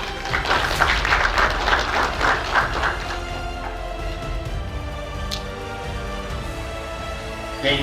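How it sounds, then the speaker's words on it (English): An audience at a banking wellness symposium gives a burst of applause, strongest early and then thinning into lighter scattered clapping. "Let's give him a round of applause"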